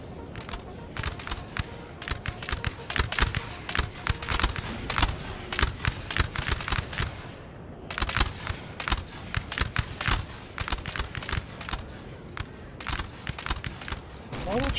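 Musket volleys crackle across an online Napoleon: Total War battle, with infantry and Jägers firing dense, overlapping shots in ragged bursts that run continuously, loud and close, with a brief lull near the middle.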